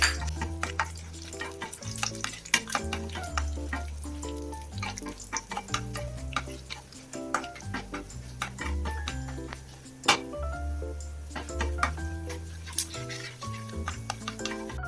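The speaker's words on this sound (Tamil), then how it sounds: "இப்போ நம்ம எடுத்து வச்சிருந்த இந்த பாதாம் அப்புறம் முந்திரி ரெண்டுத்தையுமே சேர்த்து லைட்டா ஃப்ரை பண்ணி எடுத்து" Almonds and cashews frying in ghee with spoon stirring, a steady close sizzle under a dense clatter of utensil taps for a laddu preparation.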